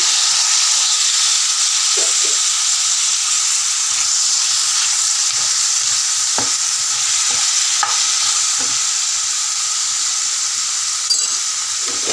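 Two chopped tomatoes frying with ginger-garlic paste in a pan for a bitter gourd curry, producing a loud, constant hissing sizzle with scattered clicks of stirring and no speech.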